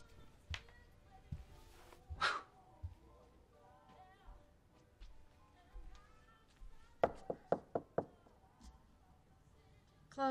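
Knocking on a door in a movie scene: a quick run of about five sharp raps comes near the end, after scattered quieter bumps and muffled voices.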